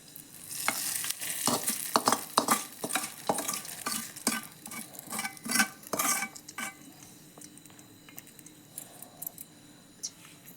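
Tempering spices sizzle and pop in hot oil for a guava chutney, with a spoon stirring and scraping the pan in quick clattering bursts that grow sparse and quieter toward the end.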